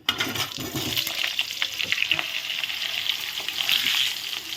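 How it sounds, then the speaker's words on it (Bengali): Steady crackling sizzle of cut potatoes frying in hot oil with a little salt, with a few clinks and stirring scrapes over the top, continuous throughout. "আলুগুলো একটু ভেজে নেব সামান্য অল্প লবণ দিয়ে দেব"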